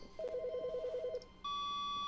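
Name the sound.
office phone ringing in the video game The Stanley Parable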